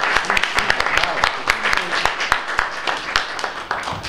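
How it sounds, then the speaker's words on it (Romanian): Audience applause at a Romanian children's poetry book launch: steady, dense clapping from a crowd, fairly loud and continuous throughout, with sharper individual claps standing out. "Vă rog să-i încurajați cu aplauze!"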